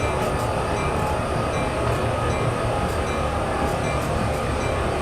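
A Union Pacific or BNSF freight train locomotive in Train Sim World 6 rolls at about 8 mph with the throttle eased back toward idle. It makes a steady, loud rumble and rail noise that runs unbroken with no talk.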